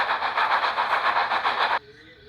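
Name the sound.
steam engine Percy puffing up a steep hill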